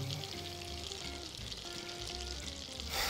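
Butter and olive oil sizzling in a pan for gravy, a steady, close frying hiss with faint tonal hum underneath and a brief louder burst at the end, no voices.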